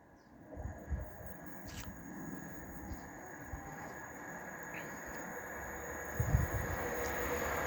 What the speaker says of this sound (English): The next train to be coming through will be another Class 195 for Northern running from Leeds to York.